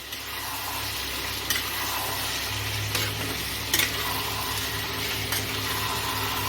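Chicken pieces sizzle steadily with vegetables in a small kadai, a constant close frying hiss broken by occasional scrapes and clinks of stirring.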